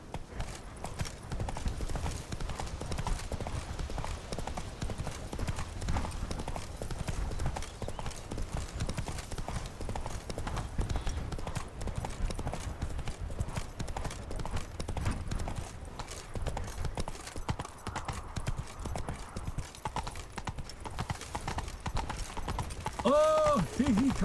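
Roach the horse gallops in The Witcher 3: Blood and Wine, with steady hoof clip-clop throughout, an occasional whinny, game music and someone talking over it.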